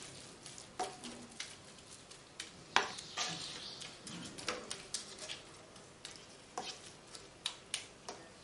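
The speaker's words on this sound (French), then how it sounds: "Je laisse mijoter un petit peu." Minced-meat lasagne sauce with vegetables cooking in a pan, soft bubbling and sizzle broken by repeated spoon clicks and taps as it is stirred, quiet and close.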